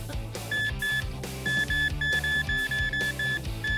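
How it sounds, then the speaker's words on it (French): A metal detector gives short electronic beeps in a repeating pattern, mixed into a busy background of music and other sounds, moderately loud throughout. "Waouh, un détecteur de métaux."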